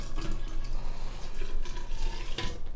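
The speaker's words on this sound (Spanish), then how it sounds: "Agregamos agua." Water pours steadily into a large jug already holding fruit for a Mexican fruit drink, a continuous close splashing and gurgling that runs the whole time with no talk.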